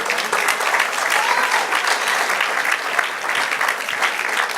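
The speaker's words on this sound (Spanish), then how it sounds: "Dale un aplauso al Señor." A church congregation applauds during a sermon, giving steady, vigorous clapping that fills the space evenly from start to finish with no voices on top.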